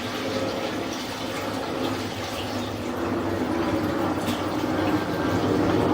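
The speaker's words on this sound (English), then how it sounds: "There's the toilet water that we just flushed down the line." Flushed toilet water rushes through a residential main sewer line, a continuous broadband gurgling wash that holds steady and builds slightly, moderately loud, with no voices.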